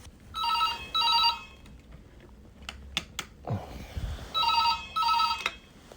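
A hotel room telephone rings with a wake-up call in repeated double bursts of bright electronic trilling, separated by pauses, with some quiet tapping and handling noises between the rings.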